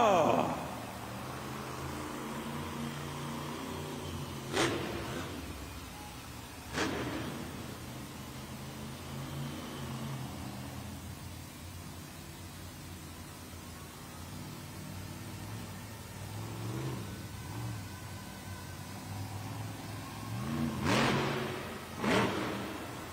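Monster truck El Toro Loco's engine revs in an arena, riding on its front two BKT tires and smoking the rear ones: a sustained rumbling roar with repeated swelling rev bursts, heard at a distance under crowd noise.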